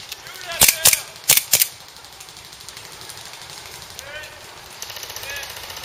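Airsoft pistols, including a KWA M9, a WE 1911 and a KJW M9, fire a handful of sharp, snappy shots, in quick pairs at first and then fainter, with a few more pops later in the clip.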